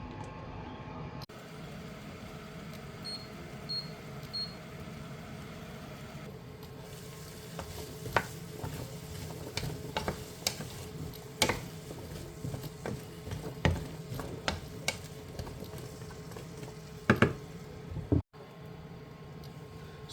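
Cubed potatoes fry steadily in a pan for a chorizo and onion hash, a continuous close sizzle with occasional crackles, scrapes and stirring clatter and no talk.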